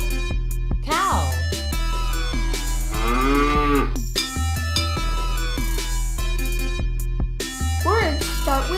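A cow moos in a few drawn-out, rising and falling calls, set over steady background music while a voice names animals between them.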